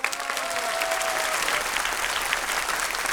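Audience applause at a televised singing competition's knockout round, a dense, steady wall of clapping that holds at an even level for about three seconds with no voices on top.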